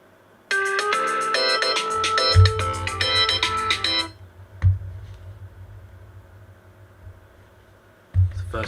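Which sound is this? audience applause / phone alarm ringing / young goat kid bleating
phone alarm ringing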